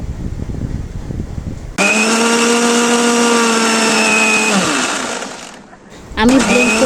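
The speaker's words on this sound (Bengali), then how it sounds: "এক কাপ পরিমাণ লিকুইড মিল্ক দিয়ে দিচ্ছি এখন আমি এটা ব্লেন্ড করে নেব" An electric blender whirs loudly through watermelon and milk for a milkshake, holding a steady motor whine after a short lead-in before it spins down and restarts briefly.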